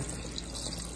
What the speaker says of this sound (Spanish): La Kenny le va a poner un poco más de agua